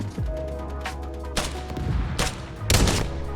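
Sniper rifle shots in the VR game Forefront fired with a gunstock, several sharp loud cracks with booming tails spaced a second or so apart, no talking.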